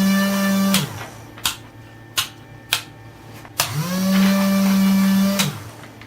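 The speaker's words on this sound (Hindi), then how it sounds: "इस स्विच के जरिए हमारा ये पंखा ऑन हो जाएगा" A DC electric fan on a solar-powered home wiring board, switched on with a few sharp switch clicks; its motor hum rises and holds steady, then winds down, with a second spin-up running several seconds before fading.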